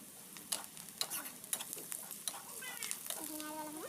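Coriander leaves and other ingredients frying in a pan under steady stirring, with a soft sizzle and repeated scraping clicks of a spoon; a faint voice is also heard in the background.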